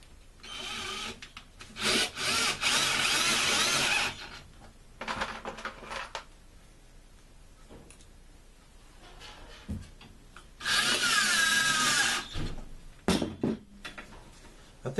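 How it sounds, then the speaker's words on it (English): A power drill drives screws into a wooden table leg in several loud bursts of whirring and grinding, separated by quiet pauses. "And begin to drill them in."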